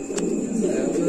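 Lahori pigeons at a pigeon farm give a low, steady cooing that runs through the whole short moment, close and fairly loud, with a brief faint higher chirp near the start.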